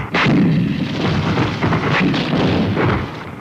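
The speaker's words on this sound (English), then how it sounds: "more artillery becomes available to lay down a heavier barrage" Soviet advance-guard artillery fires a heavy barrage, a loud, dense run of overlapping booms and rumbling blasts that continues without a break for several seconds, with no voices.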